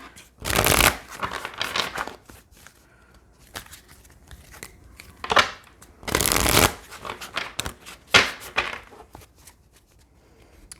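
Tarot cards shuffle in several bursts of riffling and flicking, close and crisp, separated by quiet pauses and softer card handling.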